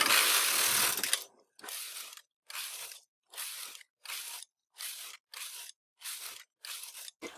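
After a loud rushing burst, a knitting machine carriage sweeps back and forth across the rows in about ten evenly spaced crunching, ratcheting passes separated by short silences.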